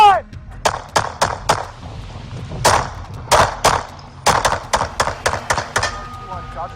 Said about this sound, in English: Shots fired, he's down.